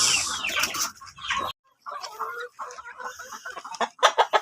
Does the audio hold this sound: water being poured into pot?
no